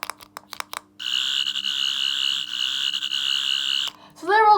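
A Third Doctor toy sonic screwdriver from Doctor Who gives a few quick clicks, then a steady warbling electronic buzz for about three seconds, followed by a short rising-and-falling synthetic chirp effect.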